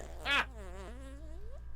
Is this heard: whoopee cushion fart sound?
yes